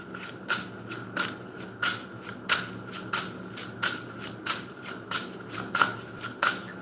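Tarot cards are handled and laid down one at a time on a table in a close, quiet room, giving about ten crisp slaps and snaps at a steady, unhurried rhythm, with no voices.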